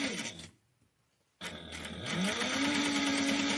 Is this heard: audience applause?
no